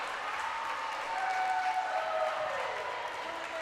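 A crowd at a high school volleyball match applauding after a kill, a moderate steady clapping that swells slightly in the middle and eases off, heard from some distance with a voice talking over it.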